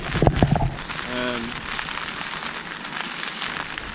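Steady rain patters on a tent during a wet trek in Scotland, a continuous close hiss throughout, with a brief low murmur early on.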